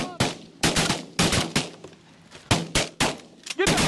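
Shotguns fire repeatedly at birds during a hunt: about eight sharp, loud blasts in an irregular run, some close together, each with a brief tail, and the shooters' voices sit faintly between shots.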